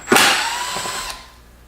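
A Milwaukee power drill spins out a screw in one short, close whir lasting about a second before winding down, with no talk.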